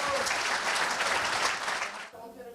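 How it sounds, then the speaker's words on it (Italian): Party supporters applauding a speaker's speech at a Lega regional assembly, dense sustained clapping that drops away abruptly near the end, with a voice emerging afterward. "un discorso che è stato applaudito a lungo"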